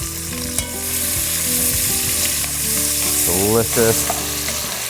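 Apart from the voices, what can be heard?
vegetables searing in beef fat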